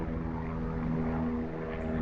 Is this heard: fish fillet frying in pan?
no